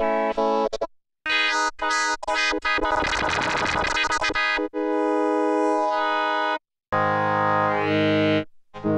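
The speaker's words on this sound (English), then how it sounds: "you can type in a text and create a wavetable" Waldorf Quantum synthesizer playing a wavetable oscillator generated from typed text, giving a buzzy, harmonically rich tone in several sustained notes with short gaps and a harsher noisy stretch partway through.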